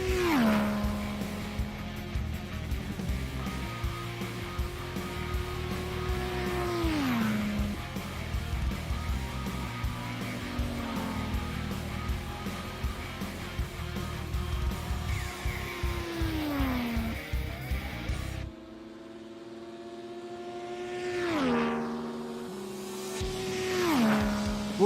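IndyCar race cars in a racing game at Texas Motor Speedway oval, with high-revving engine whine that holds steady, drops in pitch as cars pass, and repeats as more cars sweep by, fading to near silence before later passes.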